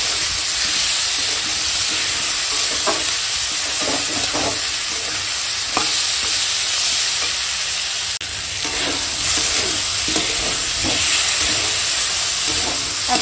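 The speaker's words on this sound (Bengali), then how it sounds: "এখন কষাবো সব মশলাপাতি দিয়ে দিয়েছি এবার শুধু কষাবো" Spiced chicken for Bengali chicken kosha sizzles steadily and loudly in a pan with turmeric, salt and spices, while a spoon scrapes and stirs in repeated strokes throughout.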